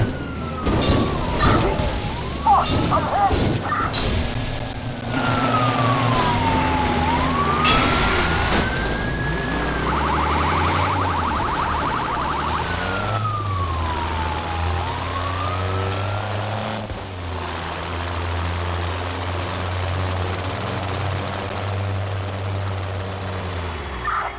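Police sirens wail and rise and fall over the heavy rotor thump of a police helicopter during a car chase in Watch Dogs, loud and continuous, with crashes and breaking glass early on.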